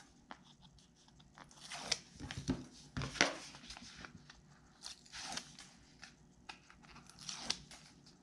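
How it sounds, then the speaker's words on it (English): Backing paper peeled from strips of double-sided tape, a series of close, crisp crackling tears in short bursts with quiet gaps between. "So I am just going to remove my tape backers."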